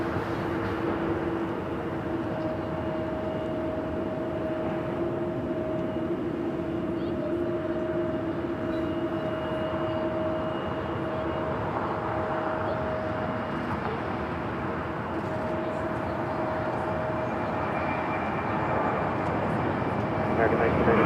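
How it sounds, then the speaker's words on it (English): An American Airlines A321T jet takes off at LAX, a steady loud roar of engines holding across the whole stretch with constant hum tones, while radio chatter and voices carry over it. "Next takeoff, American Airlines flight 274 heading to JFK. It's one of those A321Ts, transcons."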